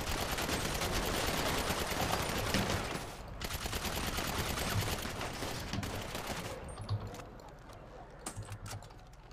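Rapid bursts of gunfire from the video game GTA RP, a dense, loud, continuous stream of shots that thins toward the end with scattered sharper cracks.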